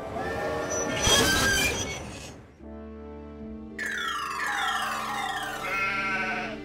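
A loud burst of sheep bleating, followed by a sustained mechanical tone and a rising, whining electronic sound that continues to the end.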